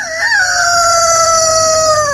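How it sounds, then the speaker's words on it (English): A rooster crows in one long, loud, drawn-out call lasting about two seconds, close and clear with no talking over it. "I hear that rooster crowing."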